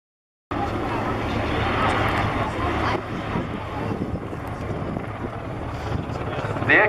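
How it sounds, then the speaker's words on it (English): Jet aircraft engine noise from a display at the Cosford Airshow, a steady distant roar with wind buffeting the microphone, continuous and fairly loud after a brief silent start. "The aircraft pitches up to 90 degrees nose up"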